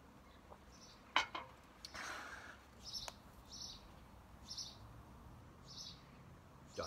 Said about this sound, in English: All the birds chattering.